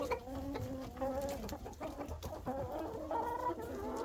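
Hens cluck and squawk inside a chicken coop on a snowy day, a busy overlapping chorus of clucks and short calls that stays close and steady throughout, with no talking.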